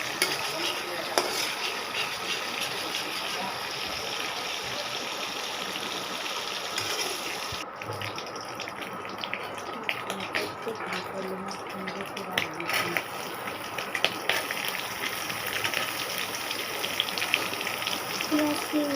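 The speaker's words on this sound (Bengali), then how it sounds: "ভেজে নিচ্ছি ফার্স্টে।" Prawns frying in a pan, a steady, dense sizzle and crackle that continues for the whole stretch, with occasional stirring noises and a brief dip in the hiss partway through.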